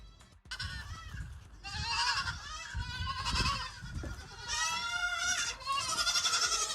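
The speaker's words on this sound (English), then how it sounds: "We went from the goat to a bunch of goats." A bunch of goats bleat in overlapping, wavering cries, several calls stacking up one after another, fairly loud and with no talking.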